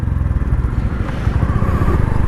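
A motorcycle engine idles steadily just after starting, a close, loud, low putter with an even rapid pulse and some mechanical clatter, running on its own without talk.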